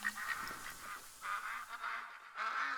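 Geese in the hunting game theHunter: Call of the Wild, a flock honking continuously at moderate distance, overlapping nasal calls rising and falling in loose bursts with no talking.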